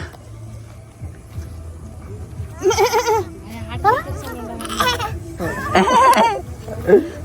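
A voice imitates a goat's bleat in several wavering bursts, mixed with adult chatter and a little laughter nearby.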